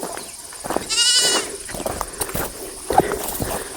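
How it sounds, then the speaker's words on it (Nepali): Goats bleating outdoors at a grazing spot among rocks, a clear drawn-out bleat followed by shorter calls, with shuffling hoof and footstep sounds around them. "बाख्रा के चर्छ चर्ने ठाउँ यता छ"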